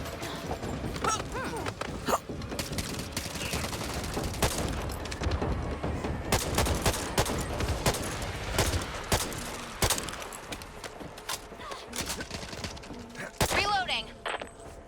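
Dense, continuous gunfire from the Back 4 Blood shooter, with rapid shots and booms layered over one another for the whole stretch, loud and close, with a voice speaking over the fighting.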